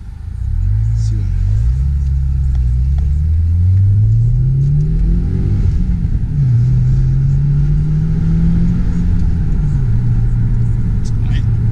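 Subaru WRX fitted with an aftermarket Invidia exhaust, heard from inside while driving: a steady, mellow engine drone that rises and falls as it accelerates and shifts, loud and continuous throughout.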